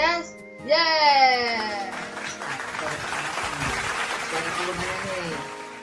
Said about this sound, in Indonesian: Pagi ini, tepuk tangan Yesus